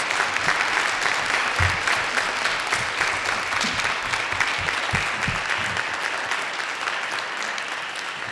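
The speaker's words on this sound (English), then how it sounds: "Let's give them a nice round of applause." A panel audience gives a sustained round of applause for panelists at a corporate environmental responsibility event, dense, even clapping filling the room steadily for the whole stretch and easing slightly toward the end.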